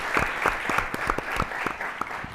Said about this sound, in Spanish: les pido que le demos un fuerte aplauso, por favor